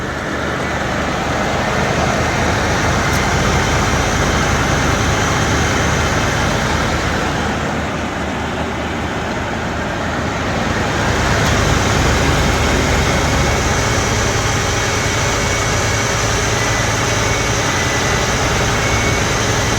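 A 1983 Buick Riviera convertible, a barn-find project car, idles after starting with a steady, even engine drone that holds loud and constant throughout, without talk.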